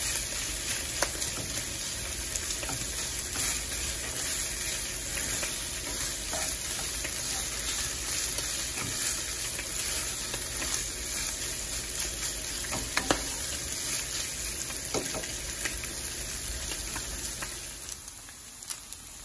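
Chorizo browning in a pan sends up an unbroken, loud crackling sizzle, close by, with a few faint scrapes scattered through and no talking.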